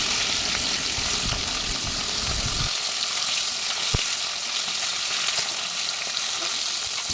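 Bata fish frying in oil over a low gas flame, a steady soft sizzle with faint stirring, moderately close and with no talk.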